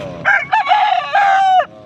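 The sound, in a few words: rooster crowing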